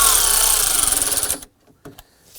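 A power screwdriver tightens screws on the blower motor module of a 2001-2009 Volvo S60, buzzing steadily for over a second before stopping, then a couple of soft clicks.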